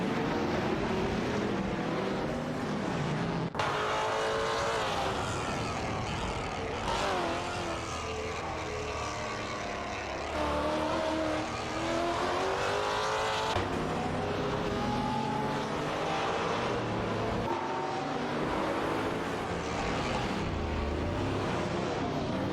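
Race cars, a Bugatti Veyron and Zenvo ESRS, roar through a racing video game, their engines rising and falling in loud overlapping revving sweeps with abrupt gear-shift cuts, continuous and dense throughout.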